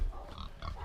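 A brief burst of pig grunting and snuffling from pigs looking for food, close by and fairly soft, lasting under a second.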